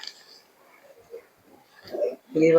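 A male pigeon at a pigeon sale coos softly in short low murmurs, followed by a louder burst of throaty cooing near the end, close by.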